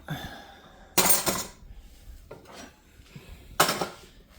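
A sourdough loaf pan lifted out of a home oven, with two loud metallic clatters and scrapes of the pan against the oven rack, a softer knock between them, and quiet room tone in the gaps.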